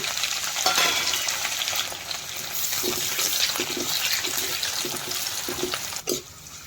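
Dried chili and chopped onion frying in hot oil: steady hissing sizzle with a run of soft, regular stirring knocks midway and a sharp clack near the end, nobody talking.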